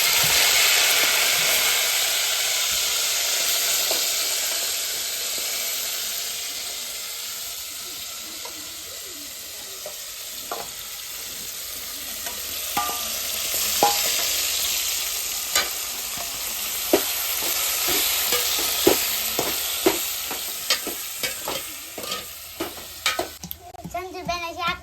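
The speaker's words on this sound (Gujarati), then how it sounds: "તેલ આવી ગયું છે તો ગુંદા નાખી દઈશું." Gunda (glueberries) drop into hot oil in a village kitchen, giving a steady hiss of frying that swells over time, broken by sharp scraping clicks of a spoon stirring the pan, growing more frequent toward the end.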